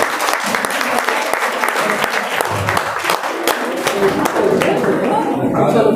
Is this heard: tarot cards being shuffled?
no